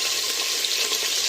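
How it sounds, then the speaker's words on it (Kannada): Brinjal pieces fry in oil in a pan with a dense, steady sizzle that stays loud and even throughout the short moment. "ಬದನೆಕಾಯಿ ಫ್ರೈ ಆಗ್ತಾ ಇರೋದು ತೋರಿಸ್ತೀನಿ"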